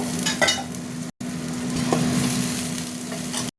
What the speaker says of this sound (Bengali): মশলা কষা হয়ে গেছে, এবার জল দিয়ে দিয়েছি। বাবা, ছিটকে ছিটকে পায়ে পড়ছে গো।